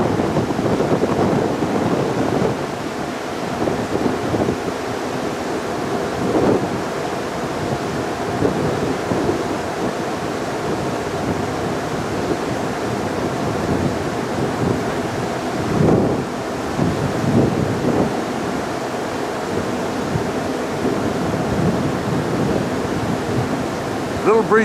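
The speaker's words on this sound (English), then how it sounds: "A little breezy." Steady wind buffeting a microphone outdoors near the water by Ellis Island, a continuous loud rumbling roar with gusty swells throughout and no clear voices.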